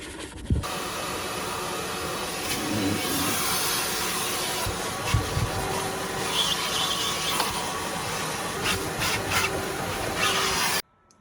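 Loud continuous hissing roar of a vacuum cleaner running close up for several seconds on a Jeep Grand Cherokee's interior carpet, with occasional bumps and scraping as it moves.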